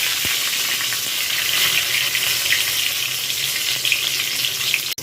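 Dry red chillies and a bay leaf fry in hot oil with garam masala, giving a loud, steady, close sizzle throughout with no talking.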